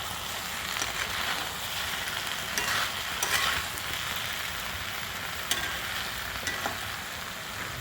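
Brinjal stir-fry with pepper powder sizzles steadily in a pan as a utensil stirs it, giving a few scattered scrapes and taps over the constant frying hiss.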